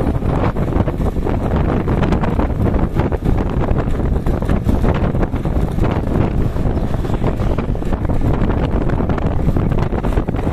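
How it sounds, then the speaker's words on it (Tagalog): Loud, constant wind buffeting the microphone, a dense roaring rush with no letup throughout, on Timog Avenue, Quezon City, Philippines. "medyo mahangin. Medyo mahangin. Ang daloy ng hangin. Simoy ng hangin."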